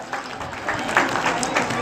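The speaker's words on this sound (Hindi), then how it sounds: "कृष्णाराम जी पीटीआई जी के लिए जोरदार से तालियां।" An audience at a school Republic Day celebration applauds, with clapping rising and falling in bursts alongside crowd noise and some voices.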